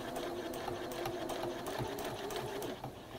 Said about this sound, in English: So I'm just sewing quite close to the edge of the fold.